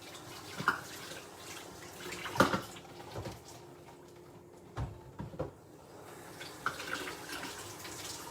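A cup is rinsed under a running tap in a kitchen sink, making a soft, steady trickle of water with a few brief clinks and knocks. The sound is quiet and close, with no talking.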